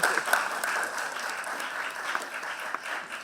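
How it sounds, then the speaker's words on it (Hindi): A school auditorium audience applauds to welcome a girl to the stage, a full, steady burst of many hands clapping throughout, moderately loud and without speech. "कृपया तालियों से स्वागत करें।"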